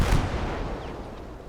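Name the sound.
4.5 cannon artillery firing in video game Gates of Hell: Ostfront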